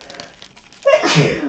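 A single sharp sneeze bursts out after a moment of quiet, close and loud.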